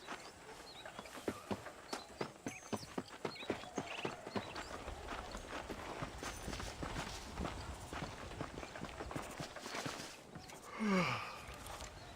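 Horse hooves clip-clopping at a steady walking rhythm in Red Dead Redemption, fairly close and distinct over a low ambient background, with a brief rising animal call near the end.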